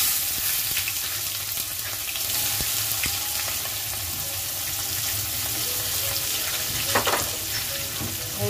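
Chopped onion frying in hot oil in a pan with cardamom, cinnamon and bay leaves for chicken curry gives a steady, close, continuous sizzle, with faint clinks and no voices.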